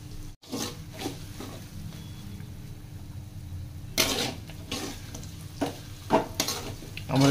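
Chicken sizzles and fries in a pan for desi-style chicken fried rice, with a steady crackle and irregular stirring scrapes and clatters of a utensil against the pan.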